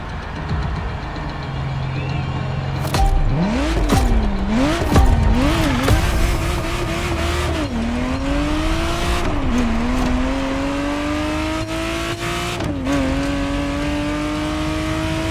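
A Ferrari Testarossa in the racing game The Crew Motorfest revs hard with rising and falling pitch, then settles into sustained acceleration through gear changes, loud and close, with a brief tire squeal.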